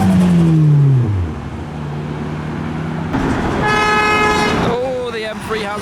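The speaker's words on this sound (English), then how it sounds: "now we have an S14 arriving" A Nissan S14 pulls into a Japanese car meet in Reading amid passing modified cars, with engine noise, a falling pitched whine, and a bright horn toot, while voices talk over the scene.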